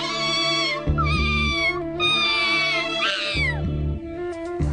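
A kitten in the Hindi-dubbed Doraemon cartoon meows loudly and repeatedly, a series of long, plaintive, drawn-out cries close up.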